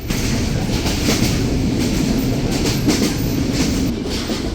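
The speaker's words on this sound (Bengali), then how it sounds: "ইরানি ভ্যাকিউম কোচের এরকম ট্র্যাকের সাউন্ড এখন সচরাচর শুনতে পাওয়া যায় না" Steady, loud rumble and rhythmic clickety-clack of the Tungipara Express running nonstop from Rajshahi to Ishwardi, heard from inside an Iranian vacuum coach on the move at around 60 to 70 km/h, with no voices.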